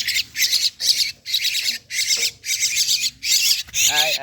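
A myna chick, soaked in the rain and with its feathers not yet fully grown, gives a series of about eight loud, harsh squawking calls in an even rhythm, close up, with short pauses between them.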